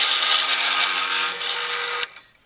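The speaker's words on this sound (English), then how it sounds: "Now I'm set to drill the 3/4 inch hole most of the way through this drawer pull." Drill press boring a 3/4 inch hole most of the way through a wooden drawer pull, a steady close whir of the spinning bit that ends with a sharp click and quick spin-down.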